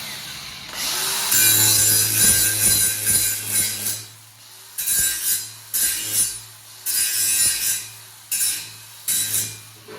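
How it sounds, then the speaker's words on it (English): Grinder working metal on a custom exhaust jig for a McLaren 720S exhaust: a long loud grinding pass, then several short bursts of grinding separated by brief pauses, with occasional metallic clinks, close up. "I'm going to grind off just a teeny smidge"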